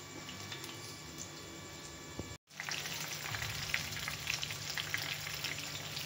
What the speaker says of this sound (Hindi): ये जो मिर्चें थी उसको बेसन में फिल करके इसको फ्राई कर लेते हैं।